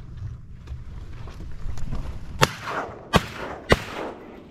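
Shotgun blasts at ducks on a South Florida public-land duck hunt, with three sharp, loud reports fired in quick succession over soft wind and marsh background.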